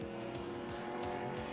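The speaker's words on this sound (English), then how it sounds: "First pace lap complete here at the world's fastest speedway." Race cars roar past on a pace lap at Talladega, the 1997 Winn-Dixie 500, several engines sweeping by in quick succession at a distance, fairly faint and steady.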